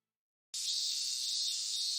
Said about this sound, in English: Burning sunlight and the voices of cicadas.